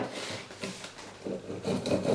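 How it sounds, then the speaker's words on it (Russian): A hand saw cuts into a piece of pine during a woodcarving session, producing soft, uneven rasping strokes that rise and fall and grow louder toward the end, close by with no talking. "Ну вот так вот начинаю пилить"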